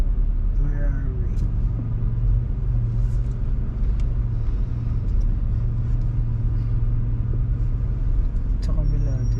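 Road traffic in Dubai, a steady low engine rumble of cars and buses passing close by, with a brief hiss of an air brake near the start and people talking over it.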